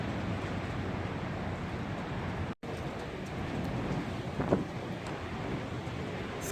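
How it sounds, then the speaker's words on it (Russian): Strong wind in a March snowstorm, a constant loud roar with microphone buffeting, briefly cutting out for an instant midway before resuming. "Ой, ветер такой сильный, что что-то рушится, такие звуки."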